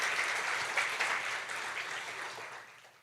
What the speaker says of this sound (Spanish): si le va a dar un aplauso, déselo fuerte, fuerte,